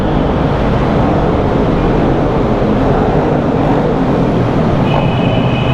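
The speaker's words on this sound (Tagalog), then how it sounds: "Ang ingay sa loob ng tunnel." Loud, steady roar inside a tunnel while riding through, a dense rumbling wash with a faint high tone near the end.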